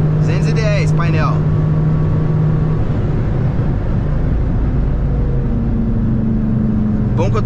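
A Stage 3 tuned Volkswagen up! TSI accelerates hard, its engine giving a loud, sustained, close roar whose pitch climbs through the gears. Voices talk over the engine briefly at the start and again at the end.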